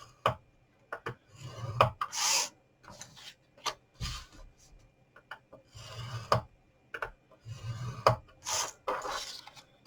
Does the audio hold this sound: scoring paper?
yes